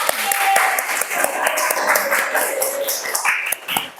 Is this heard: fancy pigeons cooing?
no